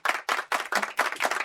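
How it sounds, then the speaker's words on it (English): A few hands clapping in a quick, uneven rhythm for panelists at a retail and e-commerce conference, sparse and close, about six distinct bursts with no talking over them. "give a round of applause to our panelists"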